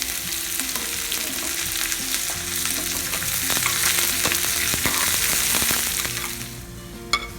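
Dried red chillies, sliced onion, curry leaves, cumin and fenugreek sizzle and crackle steadily in hot oil for a Pongal kadamba sambar tempering, a loud continuous frying hiss with scattered pops and a brief stir near the end.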